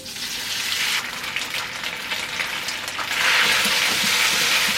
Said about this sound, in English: put in 2 tablespoons of cooking oil. Then put in the rice noodle.